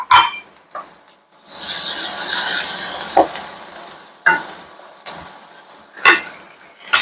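Finely chopped big onions hit a pan of frying urad dal with a broad, steady sizzle, broken by repeated scraping and stirring strokes of a spoon against the pan, close and fairly loud.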